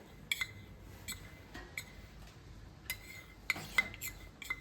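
Light clinks and taps of a utensil against a container while a xanthan gum mixture is stirred into orange extract for a homemade face wash, faint and intermittent with several sharp ticks.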